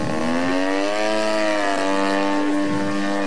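Aerobatic propeller airplane rolling through a barrel roll at a flying club air show, its engine a strong steady drone with a clear rising and falling harmonic pitch as the aircraft turns, no voices.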